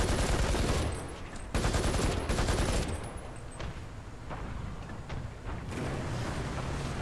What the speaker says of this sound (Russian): что стреляют спереди